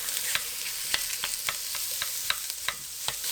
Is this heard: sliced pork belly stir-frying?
yes